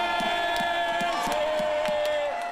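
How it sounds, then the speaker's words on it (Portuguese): Crowd of parents cheering and shouting in an indoor pool at a youth state swimming championship in Bauru, with loud sustained voices, whoops and rhythmic rising shouts throughout. "A competição é embalada por essa torcida aí"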